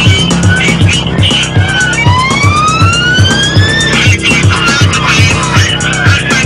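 Police car siren wailing loudly during a high-speed pursuit of a burglars' van in Portugal, its rising sweep riding over heavy road and engine noise with a steady rhythmic thumping underneath.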